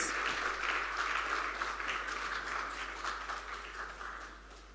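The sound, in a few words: audience applause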